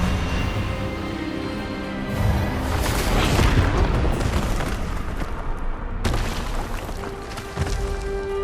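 An Expelliarmus spell goes off during a Hogwarts Legacy duel as a dense, loud roaring burst that swells around the middle, cuts off sharply, then gives way to a rumbling tail, with no talking.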